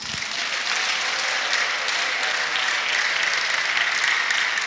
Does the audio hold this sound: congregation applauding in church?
yes